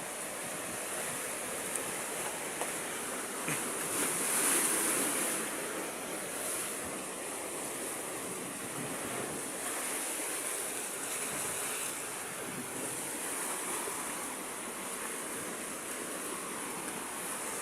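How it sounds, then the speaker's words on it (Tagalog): Moderate ocean waves roll onto a wide beach, a continuous wash of surf with gentle swells and some wind noise on the microphone, no voices. "Maalon ngayon mga Q, pero hindi po siya ganoon kalakas."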